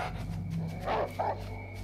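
A dog barks in the horror video game The Cows Are Watching, giving two short bursts in quick succession over a steady low game drone, moderately close and with no voices.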